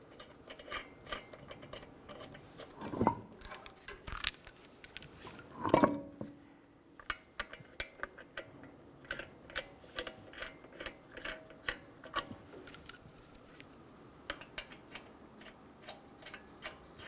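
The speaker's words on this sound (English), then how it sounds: "Install the wheel and get the lug nuts started." Lug nuts are spun by hand onto the wheel studs of a 2007-2011 Toyota Camry, giving faint, quick metallic ticks and rattles in an irregular run, with a couple of louder clanks.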